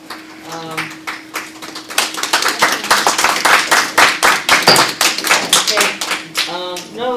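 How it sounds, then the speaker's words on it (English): Applause breaks out at a city land use and zoning committee meeting after a public speaker finishes, a burst of clapping from a modest audience in a hall with voices mixed in. "No applause, please"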